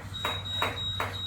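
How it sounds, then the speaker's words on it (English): A workout timer beeps three times at an even pace, each short electronic tone standing out clearly over a low background hum. "As soon as the timer starts beeping, that means time is up"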